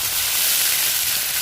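Onions frying in hot oil give a steady, even hiss and sizzle, close by and alone with no voices.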